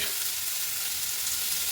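Sliced potatoes sizzle in hot oil in a home kitchen pan, an even, unbroken hiss of frying heard up close, with faint stirring underneath and no one talking.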